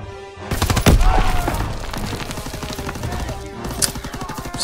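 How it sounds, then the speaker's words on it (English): Gunfire in the Call of Duty WWII campaign: rapid, dense bursts of shots and booms crowd the whole stretch, with a heavy blast near the start and loud, continuous battle noise throughout. "Stop shooting like crazy."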